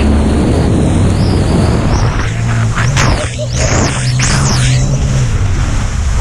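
Engines of the super yacht Lady Dee throttling up, a loud steady low rumble under rushing water and surf noise, with brief swelling whooshes midway and no talking.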